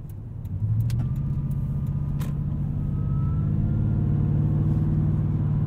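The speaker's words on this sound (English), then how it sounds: "the engine just comes right up to speed gracefully and effortlessly" A supercharged 2015 Toyota Tundra TRD Pro pickup with a TRD exhaust: its engine gives a deep, steady rumble that swells and climbs smoothly as the truck accelerates, heard from inside with no talking.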